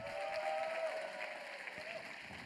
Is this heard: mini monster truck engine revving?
no